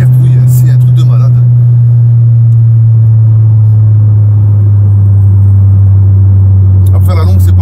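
An Opel Corsa OPC Nürburgring Edition engine drones low and steady from inside the car, a loud continuous rumble that holds throughout while people talk over it.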